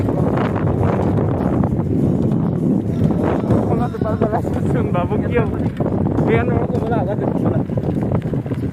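Strong storm wind gusts roar continuously across the microphone outdoors, loud and buffeting, with a person talking over it partway through.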